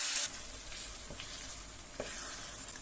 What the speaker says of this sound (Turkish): Doğramış olduğumuz, közlediğimiz patlıcanları üzerine ilave ettim ve karıştırıyorum